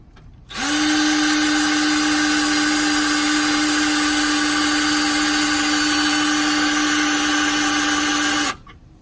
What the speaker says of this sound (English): So we're going to drill a hole here